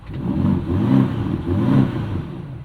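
A BMW XM Label's 4.4-liter S68 V8 fires up and revs, a deep rumbling engine swelling in two strong pulses close by, with no voices over it.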